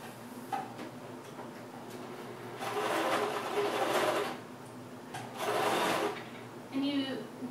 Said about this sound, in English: And you want to make sure you're sewing through all the layers of your fabric